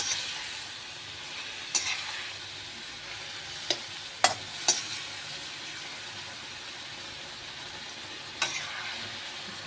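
Pointed gourd fries in a pan with a soft, steady sizzle while a spoon stirs it, giving a few sharp clinks and scrapes scattered through the sizzle.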